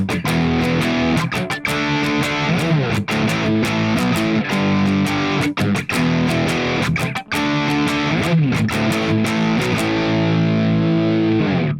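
Heavily distorted electric guitar plays the bridge of a song with driving power chords. The strumming is loud, close and continuous, broken by brief muted stops, and no voices are heard.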